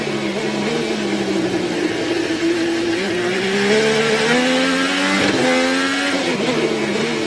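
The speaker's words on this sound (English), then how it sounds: "you can just hear the slop wally in the gearbox as it hits those bumps" IndyCar race car on the bumpy Houston street circuit in 2013, a loud onboard engine drone with rising and falling pitch as the car jolts over bumps, the gearbox rattling beneath the steady roar.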